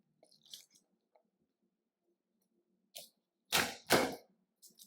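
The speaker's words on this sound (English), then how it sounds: "So I'm just gonna smash a couple cloves." Garlic cloves are smashed on a kitchen counter, giving two sharp, close crunching thuds after a few faint taps and handling noises, with no talking.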